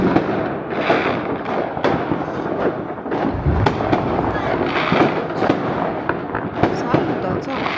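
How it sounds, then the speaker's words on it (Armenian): New Year fireworks go off all around in a dense run of crackling bursts and sharp bangs, some near and some farther off, with people's voices mixed in among the blasts. "Չորս բոլորը հրավառություն։"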